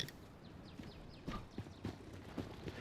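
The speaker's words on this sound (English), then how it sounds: "Please don't take my horse." Horse hooves clip-clop in the survival game Rust, a series of irregular hoofbeats at a walking pace, fairly quiet and distant, with a faint whinny-like tone partway through.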